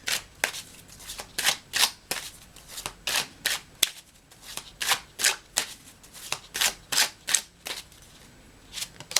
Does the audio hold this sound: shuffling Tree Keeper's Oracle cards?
yes